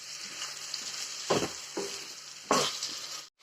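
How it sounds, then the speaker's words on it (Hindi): Tomatoes for paneer butter masala sautéing in a pan, a steady close sizzle with a few louder scraping stirs of a spoon, no talking. "और टमाटर को भी हम हल्का सा सॉटे कर लेंगे, जब तक कि टमाटर भी थोड़े से सॉफ्ट नहीं हो जाते"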